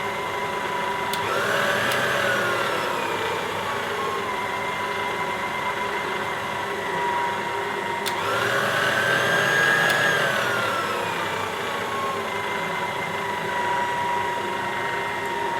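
An electric hand mixer runs steadily at low-medium speed, beating Victoria sponge cake batter as eggs are added one at a time, with a continuous whir that rises slightly twice.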